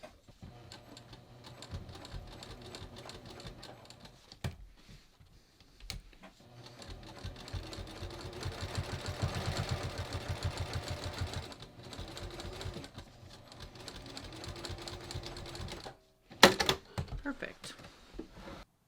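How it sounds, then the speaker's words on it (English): A sewing machine runs in long bursts stitching a denim jeans seam, a steady close mechanical whir with brief pauses and a clattery stop near the end; a voice talks faintly now and then. "I'm going to sew all the way up on top of this side, and then I'll just pivot it around"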